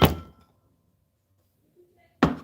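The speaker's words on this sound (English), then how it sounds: "Can you close the door if you're gonna play your music that loud?" A door closing in a home, two dull thuds about two seconds apart with near silence between them.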